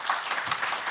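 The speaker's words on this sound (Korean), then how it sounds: "박수 한번 부탁드리겠습니다." Audience applause at a police academy training lecture as two new police officers are welcomed for a practical exercise; steady indoor clapping from a seated crowd filling the whole moment without speech.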